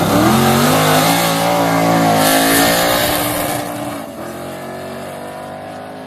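A Ford Mustang street-racing car's engine roars loudly nearby at a street cup drag event in Seinäjoki, holding a rich, high rev before the pitch drops and the sound fades as it pulls away.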